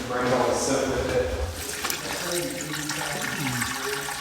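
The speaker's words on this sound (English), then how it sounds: "when I turn on this flush flow valve, a whole bunch of water will come out of there and bring all the soot with it" Water gushes loudly from an opened flush flow valve in a Morton building, a turbulent rush carrying soot that surges at first and then settles into a steady splashing flow while someone talks over it.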